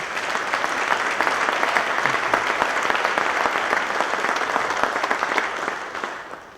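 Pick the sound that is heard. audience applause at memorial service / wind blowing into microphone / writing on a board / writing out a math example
audience applause at memorial service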